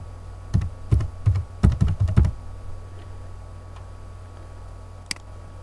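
Computer keyboard typing while entering values into a spreadsheet: a quick burst of clustered key clicks over about two seconds, then near silence with one stray click later, close and fairly loud with no talk.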